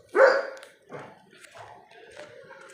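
A dog barks sharply once nearby, then gives a few softer yips and whimpering sounds outdoors at home as a tropical storm approaches.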